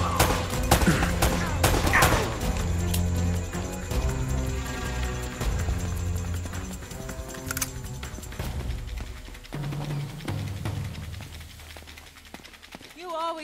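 Sustained gunfire from Uncharted: Drake's Fortune, loud close shots and crackling volleys rattling on throughout with other game sounds, fading somewhat toward the end, while voices talk over it.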